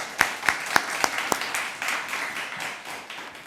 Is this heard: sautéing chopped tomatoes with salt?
no